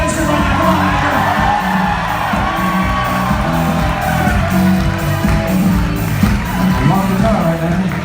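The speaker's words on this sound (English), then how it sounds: "This crowd's gonna go wild." An audience at a hypnotist stage show cheers wildly, a dense, continuous roar of whoops, yells and shouts that stays loud and full for the whole stretch.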